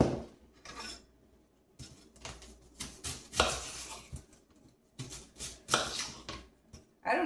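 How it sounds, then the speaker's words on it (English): Knife cutting up an onion on a board in a home kitchen, a string of irregular, close chopping and scraping strokes with brief pauses between bursts, no talking. "And now I'm going to cut up an onion."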